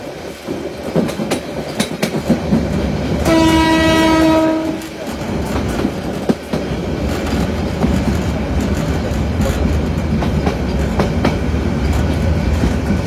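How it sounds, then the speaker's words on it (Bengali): The 34 Down Titas Commuter train pulling into Methikanda railway station, a loud sustained rumble of wheels on rails with a long blaring horn blast early on, heard from close by aboard the train. "আর আমাদের ব্রাহ্মণবাড়িয়াগামী 34 ডাউন তিতাস কমিউটার ট্রেনটি মেথিকান্দা রেলওয়ে স্টেশন প্রবেশ করলো"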